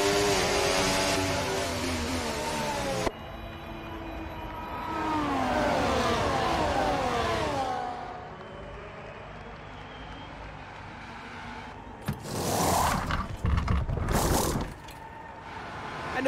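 An F1 24 video game race car pulls away from a pit stop, its engine climbing through a loud rising whine, then fading to a lower drone before sharp bursts of noise.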